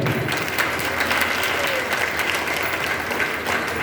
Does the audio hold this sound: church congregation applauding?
yes